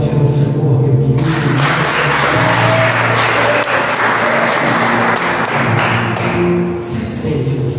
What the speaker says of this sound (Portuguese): Você pode aplaudir o Senhor, meu querido.